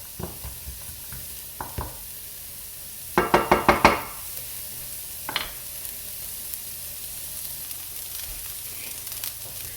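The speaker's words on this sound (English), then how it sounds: "Onion frying off nicely. It needs to go soft." Onions sizzle steadily in a hot pan, with a quick burst of spoon knocks against the pan partway through and a few scattered taps.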